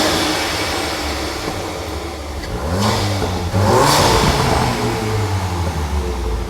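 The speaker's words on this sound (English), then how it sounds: "provides an epic turbo induction sound" A VW Mk8 Golf R engine revs up with a rising whoosh and whistling turbo intake sound, the pitch climbing then settling as the engine pulls.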